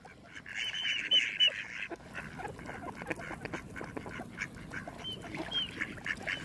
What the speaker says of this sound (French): Lui, c'est le canard que vous connaissez tous, c'est le canard colvert.